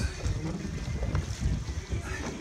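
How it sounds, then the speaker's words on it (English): Strong wind at sea, around 20 knots, buffets a sailboat on its maiden voyage, a loud continuous rush and low rumble with microphone gusts and water noise underneath. "Probably 20 knots of wind going out."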